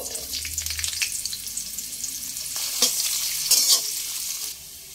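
Chopped carrots frying in a pan for Bengali-style fried rice, a steady close sizzle with brief stirring clatters partway through, no voices.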